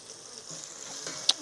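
Onions sauté in a pan over a wood fire outdoors in the mountains, a low, continuous sizzle with a single sharp tick of utensil on metal just before the end.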